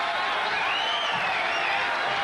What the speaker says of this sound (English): You can hear the crowd roaring him on